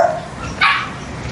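A small dog barks once, sharp and close, in a bamboo-surrounded house setting in Hoi An, Vietnam, after a faint yip at the start and then quiet.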